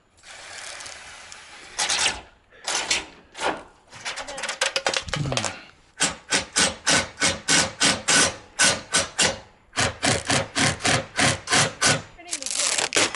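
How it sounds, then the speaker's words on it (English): Drilling then screwing into a metal roof panel on a hidden hardware roof install: close, repeated buzzing bursts from a power tool, short pulses at first, then a long run of rhythmic even pulses, heard alone. "You'll have to drill first,"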